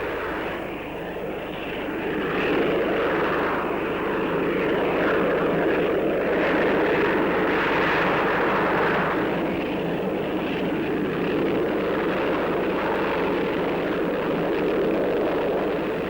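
A jet attack aircraft capable of vertical takeoff flies overhead, producing a steady, continuous engine roar that holds at an even, fairly loud level throughout without a break.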